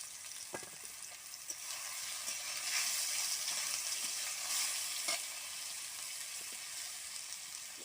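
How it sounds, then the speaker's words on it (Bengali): Boiled taro stolons, cooked with garlic, sizzle steadily in a pan as they are stirred, with a few sharp scrapes and clicks of the utensil rising over the continuous frying hiss. "সিদ্ধ করা কচুর মূল্যগুলোতে দিয়ে দেওয়া হয়েছে দেখো এবার এটা পাঁচ মিনিট একটু নাড়াচাড়া করতে হবে"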